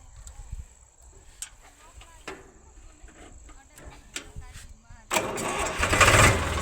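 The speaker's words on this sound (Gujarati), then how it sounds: "ટ્રેક્ટર ચાલુ કરી દે" Tractor engine starting on a farm: quiet rustling and voices first, then the engine suddenly catches and settles into a loud, steady rumble.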